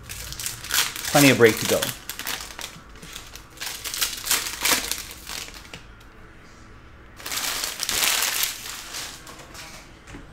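Panini Prizm basketball card packs being ripped open in a hobby box break, with bursts of crinkling foil and shuffling cards under people talking.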